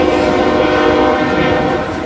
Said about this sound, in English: Kind of wish it wasn't an auto rack, but it's a train.